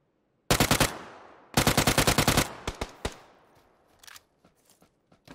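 Gunfire in PUBG on Xbox One: two loud bursts of rapid automatic fire, then several single shots that fade and grow more distant, ending in quiet.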